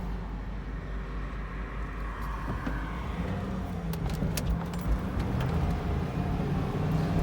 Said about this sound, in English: got the Bronco here. Take it for a quick spin down the street.